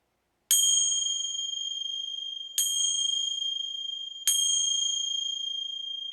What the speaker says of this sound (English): These bells might be a little loud.